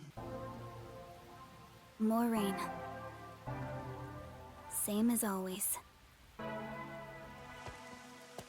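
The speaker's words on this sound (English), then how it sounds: "Until recently, I despised this rain." Steady rain in the video game Raincode forms a soft, constant hiss underneath someone speaking, who is heard in bursts, with musical tones rising in between.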